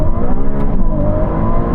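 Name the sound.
Ferrari cars accelerating hard in a rolling drag race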